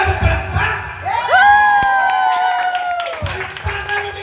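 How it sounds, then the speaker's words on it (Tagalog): Crowd cheering and clapping at a lively dance contest, with whoops and shouts rising over steady applause, plus a loud whistle-like tonal sweep cutting through the middle; the noise stays dense and near throughout. "Palakpakan na may kasamang liyawan!"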